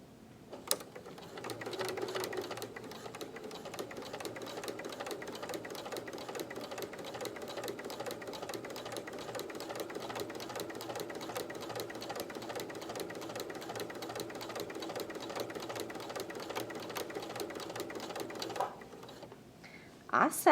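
A sewing machine fitted with a ruffler foot runs continuously, its rapid even stitching chatter steady for most of the stretch before stopping briefly near the end.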